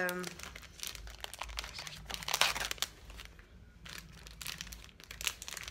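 Plastic packaging on a makeup product crinkles and crackles in close, irregular bursts while someone tries to open it, with talk running underneath.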